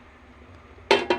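A metal lid set back onto a cooking pot of Filipino chicken curry, two quick close clanks in a quiet kitchen.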